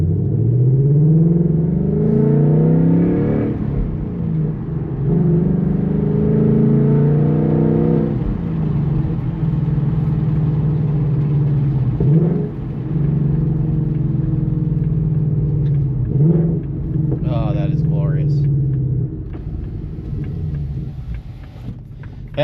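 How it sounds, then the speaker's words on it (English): A Ford Mustang 5.0 V8 with its resonator deleted revs up and settles several times, a deep throaty rumble with rising and falling pitch, loud and close, no talking. "Let's go ahead and roll the windows down, give it a rev real quick."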